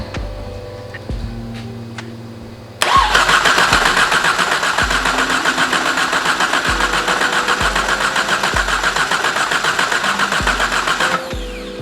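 A few faint clicks, then a starter motor cranks loudly in a steady rhythmic chug for about nine seconds without the engine catching, then stops; the engine has a stuck-open fuel injector.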